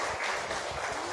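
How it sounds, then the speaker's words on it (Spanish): An audience at a Bible spirituality week gathering breaks into applause, a dense, steady wash of many hands clapping at moderate distance, sustained and even throughout with no voices on top. "Aplauso."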